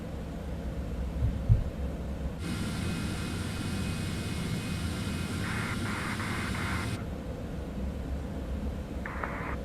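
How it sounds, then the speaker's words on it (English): Citation X business jet engines spooled back to idle while rolling out after landing at London City Airport in Microsoft Flight Simulator, a steady broadband whine and rumble with a brief tonal burst early on. "let's go engines back to idle. And we just roll out like this."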